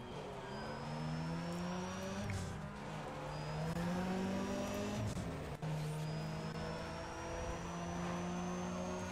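Engine roar from a drag race in the video game Need For Speed ProStreet, a steady loud revving drone with rising gear pitches and a brief dip mid-run as the car shifts.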